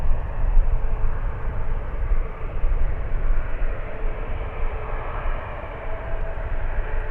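A Turkish Airlines Airbus A350 on final approach into San Francisco, a distant low jet rumble that holds steady and dense throughout, unbroken and without talk.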